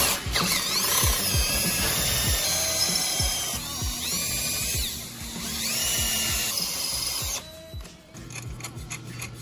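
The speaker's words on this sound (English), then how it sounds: "get another buddy who's a little bit stronger with a drill, and start punching through the subframe here" A power drill punches holes through a Kawasaki 636 motorcycle subframe during a stunt cage build, whining loudly and close with rising and falling pitch as the bit bites into metal, then cutting out near the end.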